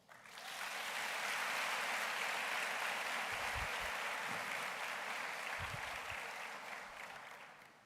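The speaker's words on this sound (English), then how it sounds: "that deserves a thunderous round of applause" Thunderous applause from a university welcome ceremony crowd, a dense, sustained wash of clapping that swells in quickly and holds steady for several seconds before easing slightly.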